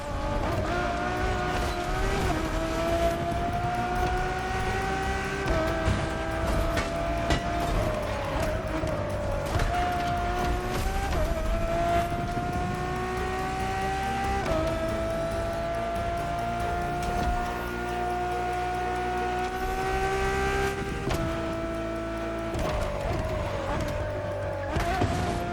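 Ferrari road-legal F1-style hypercar with a Pininfarina body, raced in The Crew Motorfest on PS5: a loud, steady high-revving engine drone that climbs through repeated gear shifts, with faint tire noise beneath and no talk.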